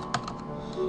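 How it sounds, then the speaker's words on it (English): Quick keystrokes on a computer keyboard, a short burst of close typing while a URL is entered over a low steady room hum. "So you type in the URL"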